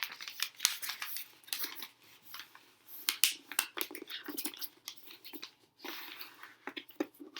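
A sheet of paper is folded into columns for a fractions lesson, giving a run of crisp creasing, crinkling and sliding sounds with short sharp bursts, close up and with no talking.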